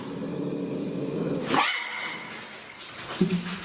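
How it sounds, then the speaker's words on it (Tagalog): A thin, malnourished dog barks and growls at close range. A sharp bark rings out midway, followed by a shorter yip near the end, over a low rumbling background. "Ayan, may aso."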